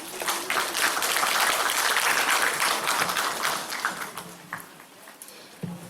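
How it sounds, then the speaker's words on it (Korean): Audience applause welcomes a lecturer from a Naju public health center at a community mental health training session, a dense, steady burst of clapping that thins out toward the end as a few scattered claps remain. "이혜주 강사님을 큰 박수로 맞이해 주시기 바랍니다."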